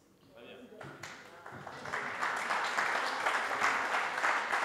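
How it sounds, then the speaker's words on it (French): Audience applause at a political debate on representative democracy, building from a few claps into sustained, steady clapping from a sizable crowd, loud and continuous with no voices over it. "vous pouvez applaudir à chaque intervention, vraiment"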